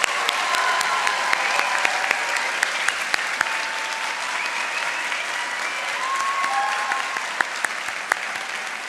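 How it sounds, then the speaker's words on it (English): Sustained applause from a large audience for the graduating class at a 2023 fall convocation, a steady, dense roar of clapping with sharp individual claps popping out. "how about one last huge congratulations and round of applause for the graduating class of"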